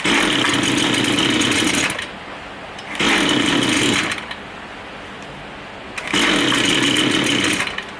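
A line trimmer's small two-stroke engine, running rough after a carburetor adjustment, surges loudly in three rasping bursts of revving, dropping back to a quieter idle between each burst.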